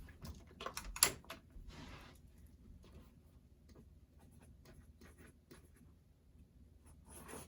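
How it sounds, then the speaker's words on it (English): A pen scratches across paper at close range in quiet, short faint strokes and ticks, with a soft tap early on and no talking. "I'm going to make a note of that"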